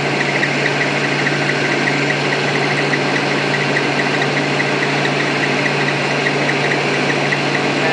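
A rotoverter motor with a spinning wheel runs at roughly 1,000 to 1,200 RPM, giving a loud, unchanging hum with a steady low tone throughout. No one speaks.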